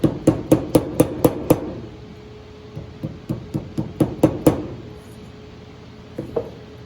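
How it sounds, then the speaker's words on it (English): Hammer blows tapping fret wire into a ukulele fretboard: a quick run of about seven close, sharp strikes, a pause, then another even series, with two lighter taps near the end. "Pounded down equally across the whole thing."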